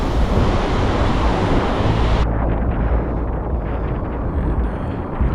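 Ocean surf and long swells roll in while kitesurfing off Jupiter, Florida, a loud, constant roar of breaking waves mixed with heavy wind buffeting the microphone, with no voices.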